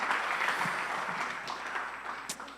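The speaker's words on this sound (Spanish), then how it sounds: "puedes darle un aplauso a Jesús." A church congregation claps together during a Christmas service, a steady wash of applause lasting a couple of seconds at moderate level with no voices on top.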